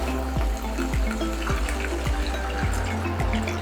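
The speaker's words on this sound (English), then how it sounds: "And then some water." Water pours from a tap into a pot of beef and carrots coated in tomato paste, a continuous close splashing and gurgle with repeated sliding bubbly glugs as the level rises.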